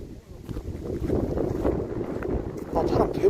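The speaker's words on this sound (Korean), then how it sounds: "바람 개불어. 바람 소리 들리시죠?" Strong wind blows outdoors near an abandoned house, buffeting the microphone in a rough, low, fluctuating rumble that swells and gusts over a few seconds.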